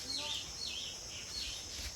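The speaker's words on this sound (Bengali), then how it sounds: "আর গ্রামে থাকলে না পাখির ডাকটা তো শুনলেই তোমরা" Birds call in a village, giving a few faint, high chirps and warbling phrases spread over a couple of seconds above a soft background hiss.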